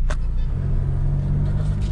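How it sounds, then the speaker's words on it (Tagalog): Remapped car with a manual gearbox pulling hard through the gears, giving a steady, loud low engine rumble that holds throughout without pause. "papatakbuhin natin siya sa fourth gear pull"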